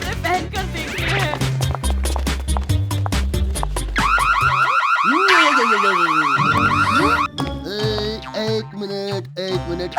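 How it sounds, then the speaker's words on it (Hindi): A repeating electronic alarm sounds inside a cartoon shopping mall, warbling loudly across the middle of the scene over background music and effects, with voices talking around it. "एक मिनट, अलार्म बोला,"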